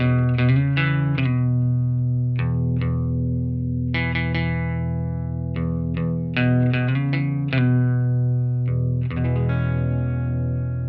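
An electric guitar plays chords and short phrases through a swirling modulation effect with light distortion, loud and close, with no voices.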